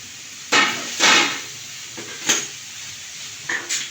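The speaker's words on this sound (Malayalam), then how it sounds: "അവിലിട്ടിട്ട് നന്നായി ഇളക്കുക." Rice flakes tipped into a hot pan for a carrot breakfast dish and stirred, giving a few loud scraping, rustling bursts followed by softer, sparse stirring scrapes, close by with no talk.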